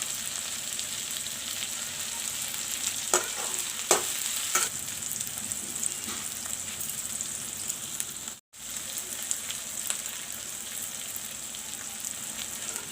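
Onions and curry leaves fry in a hot pan with a steady bright sizzle, a few stirring scrapes near the start and a brief drop-out midway.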